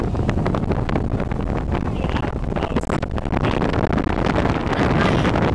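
Loud, steady wind buffeting the microphone while out sailing on a boat with an Airedale terrier aboard, with rushing water beneath and no clear break.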